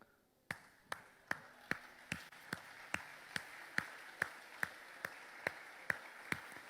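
Clapping for the mothers at a church service rings out as sharp, evenly spaced claps, about fifteen in a steady rhythm, each one crisp and clear in a reverberant room, with no talk.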